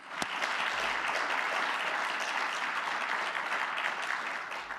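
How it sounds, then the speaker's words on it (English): Sustained applause from a university awards ceremony audience, dense and steady throughout, fairly loud and full with no break. "How about giving them a round of applause again?"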